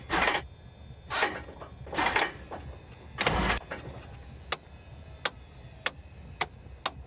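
A Cessna 172 engine in the A2A flight simulator cranks on a dead battery: a few slow, labored starter groans that fade, followed by a run of sharp, evenly spaced clicks as the starter fails to turn.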